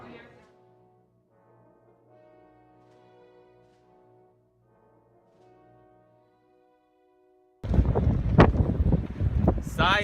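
Strong gusting wind buffets the microphone with loud rumbling bursts after a stretch of quiet, faint tones.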